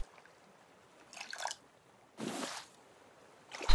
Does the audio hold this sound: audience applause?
no